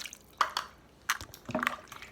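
Water poured into a cooking pot for homemade chicken and rice, a few short splashy bursts and drips spaced apart, close and fairly quiet.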